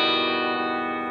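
An electric guitar on the bridge pickup, with heavy amp treble, light reverb and slapback delay, rings out one sustained bright twangy chord that slowly decays, loud and alone.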